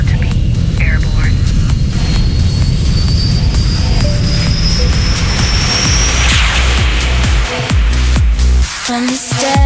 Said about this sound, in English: We are about to be airborne.